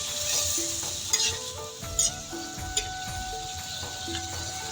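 Mushroom curry bubbles and sizzles in a pan, a continuous fizzing hiss with a few soft clicks of a utensil. Faint tonal music runs underneath.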